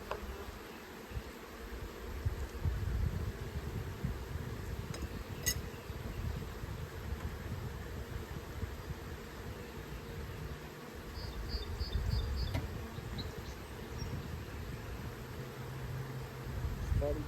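Honey bees buzz continuously around an open backyard beehive during a spring inspection, a dense close hum that fills the whole stretch, with occasional faint clicks of frames being handled.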